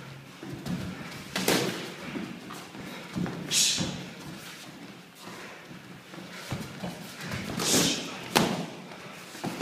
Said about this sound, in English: Every time he hits you, Lockie, hit him back.